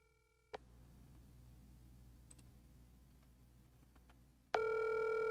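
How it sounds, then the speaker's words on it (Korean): Faint room hiss runs through a phone call while it connects. Near the end a loud, steady electronic ringback tone abruptly begins and holds. No one speaks. "자, 전화 연결되고 있습니다."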